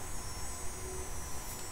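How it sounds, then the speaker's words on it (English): Steady high-pitched cicada buzz coming from outdoors on a summer day, a continuous hiss-like drone that stays even and fairly faint from start to finish, with no talking over it. "no, that's a cicada outside."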